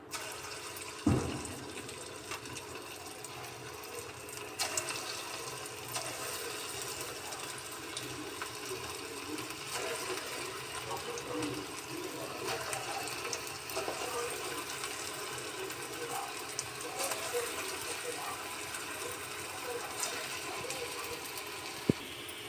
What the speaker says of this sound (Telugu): ఆయిల్ హీట్ ఎక్కిపోయిందండి ఇప్పుడు పునుగులు వేసుకుందాం